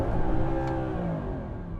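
An Audi R8 V8 engine revs hard against its limiter, a dense buzzing roar whose pitch wavers and stutters briefly.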